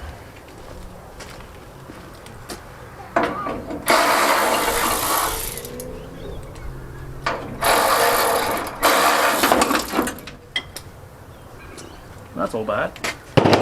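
A rattle gun (impact wrench) undoes bolts during an engine swap, firing in loud, close bursts of a second or two each, separated by pauses with clinks of tools, and someone speaks briefly between bursts.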